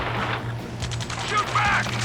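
Gunfire from the video game Ace Combat 7 crackles as a steady, dense battle din of rapid shots, with a low continuous hum beneath and sporadic brighter bursts throughout.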